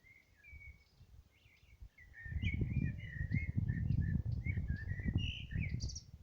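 Several birds sing and chirp outdoors beside a spring among shrubs, bright calls repeating through the clip over a low, steady rumble of background noise that swells after the first couple of seconds.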